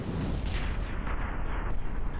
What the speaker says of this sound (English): we had some explosions